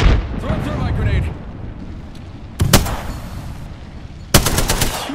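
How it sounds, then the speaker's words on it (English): Gunfire and explosive bursts from the Apex Legends video game, including a thermite grenade, with rumbling blasts and two sharp loud salvos near the middle and end. "Throw a thermite grenade!"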